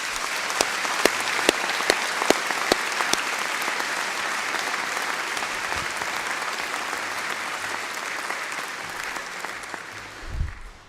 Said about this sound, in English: can we start with a huge round of applause for everyone else?